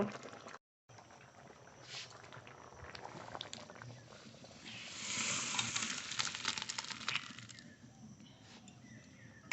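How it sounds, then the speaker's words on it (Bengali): Cooked dal with jute leaves is poured from the pot, making a soft, faint trickling and sloshing that grows fuller toward the middle. A quiet background hiss runs underneath and there is a brief gap near the start. "শাক দিয়ে ডাল রান্না হয়ে গেছে এবার ঢেলে নেব"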